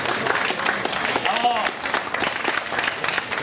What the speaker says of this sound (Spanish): Felicidades y fuertes aplausos.